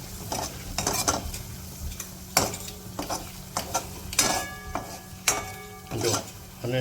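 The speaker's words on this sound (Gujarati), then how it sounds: "બરાબર જારો કરવો જોઈએ અને બરાબર પકાવો" Red garlic chutney with Kashmiri chili powder being stirred in a pan, a spoon scraping in bursts against the metal over a low steady cooking hiss, with a few spoken words mixed in.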